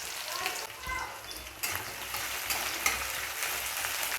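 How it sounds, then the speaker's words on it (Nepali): Onions frying in oil with bay leaf, green chilli and whole spices, browning for a goat liver dish; a steady close sizzle with light stirring scrapes and a few brief clicks. "प्याजलाई एकछिन यो गोल्डन ब्राउन हुन्जेलसम्मको लागि खर्याउने"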